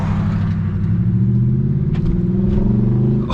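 Deep, loud rumble of an Audi engine fitted with a muffler-delete exhaust, heard up close as a throbbing, slightly rising drone over a few seconds with no talk.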